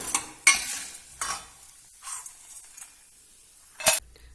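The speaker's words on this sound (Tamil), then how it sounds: "உளுந்தும் வரமிளகாவும் வறுத்தாச்சு" Urad dal and dried red chilies fry in oil in a pan, giving a faint sizzle under a few sharp scraping clinks of a spoon stirring, spaced irregularly between quieter moments.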